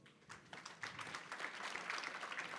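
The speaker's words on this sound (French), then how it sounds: "Sous vos applaudissements, mesdames, messieurs." Applause from a conference audience welcoming speakers to a panel on Mediterranean cities, starting softly and swelling into a dense, even patter of many hands, somewhat distant and fairly quiet.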